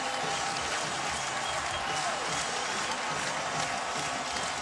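Stadium crowd at a 2014 college football game erupts after Boston College upsets No. 9 USC 37-31, a loud, unbroken roar of cheering and applause filling the whole stretch.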